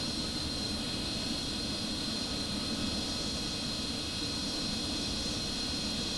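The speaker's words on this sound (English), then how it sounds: "The MiG-29 shown here are flown by a professional piloting squadron known as the Strigi, Swifts." MiG-29 fighter jets flying aerobatics give a steady, even jet roar with a hissing whine, continuous and unchanging throughout, with no voices.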